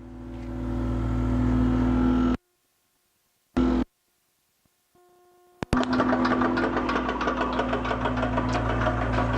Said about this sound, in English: So that one right there is the MVP pump running